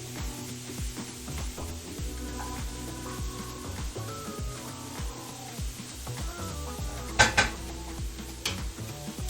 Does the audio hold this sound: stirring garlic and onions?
yes